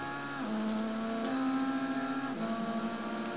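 A damaged race car from a racing video game drives with a steady, droning engine whine. The pitch shifts a few times as it changes gear. No one speaks.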